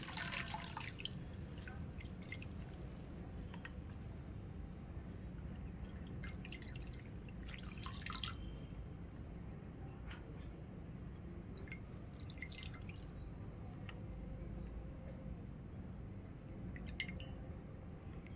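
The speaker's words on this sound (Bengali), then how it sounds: "পালং শাকটাকে জল থেকে তুলে জলটা ঝরিয়ে" Water dripping from drained spinach leaves, held up out of a bowl of water while making palak paneer, a steady patter of small drips and trickles, close and soft, with no talking.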